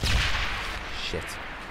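Grenade blasts in a World War II shooter: a loud burst at the start fading into a noisy rumbling tail, with a second, smaller crack about a second later.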